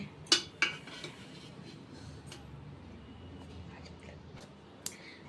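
Cooked mutton biryani being lifted from a pot with a utensil: two sharp metallic clinks near the start, then quiet scraping and shuffling over faint room noise, and one more light clink near the end.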